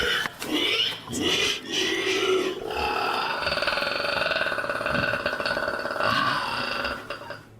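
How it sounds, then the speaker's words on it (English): Harsh, squealing cries like an enraged pig mixed with a roar come from an unseen creature in the dark, filling the clip with loud, continuous wavering calls and grunts. "It sounds like a mix between a squealing pig and some sort of enraged dinosaur."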